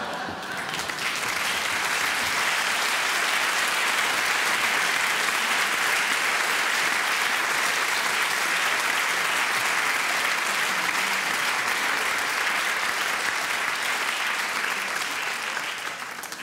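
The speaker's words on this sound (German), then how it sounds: "Ich habe keine Ahnung, warum das Sie jetzt applaudieren." Sustained applause from a studio audience at a live comedy show, loud and steady across the whole stretch with no talk over it, swelling in after a moment and holding dense clapping throughout.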